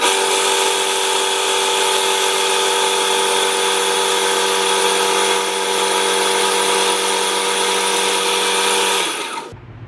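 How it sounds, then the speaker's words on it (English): Belt grinder with an A30 Trizact belt polishing the edge of a Wusthof fillet knife, a loud steady whine with a constant hum that cuts off abruptly at the end. "So we're just going to come in and basically start polishing this edge"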